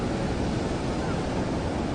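Ocean surf at a surfing championship off North Nias, a steady, dense roar of waves with wind noise, continuous and close with no break.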